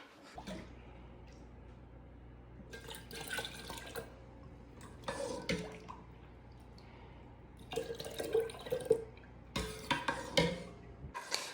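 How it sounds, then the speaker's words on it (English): Spiced apple cider is strained, with intermittent pouring and splashing of liquid alongside light clinks of kitchenware in a quiet indoor setting, the bursts irregular and fairly close. "Now we can strain the spiced apple cider."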